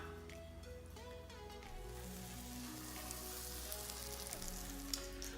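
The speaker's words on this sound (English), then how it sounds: "all set up with the pan nice and hot. Butter in there. Get the butter nice and hot." Butter sizzles in a hot frying pan, a faint, soft hiss that grows fuller after the first couple of seconds and carries on steadily, with quiet background tones and no talking.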